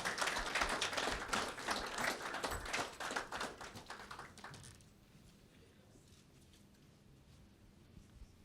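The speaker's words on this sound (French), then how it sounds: "qu'on applaudit pendant qu'il se lève" Applause rings out at the SAGO 2021 closing ceremony as a secretary general rises, a crowd of hands clapping loudly for about five seconds before cutting off into quiet room tone.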